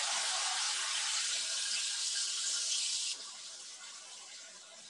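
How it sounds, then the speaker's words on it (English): A kitchen tap pours steadily as hands are rinsed, a loud broad hiss of running water that drops to a softer flow about two-thirds through, with no talk over it. "And then we're going to rinse our hands real quick."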